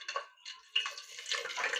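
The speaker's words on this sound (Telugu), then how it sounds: "మసాలాలు వేగుతున్నాయి కదా." Whole spices frying and crackling in about three spoons of hot oil at the start of a home-cooked mutton pulao, giving faint, irregular sizzling bursts close by with no talk.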